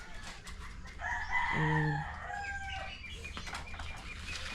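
A rooster crows once, loud and close, then birds cluck and rustle nearby, with a brief spoken word near the start.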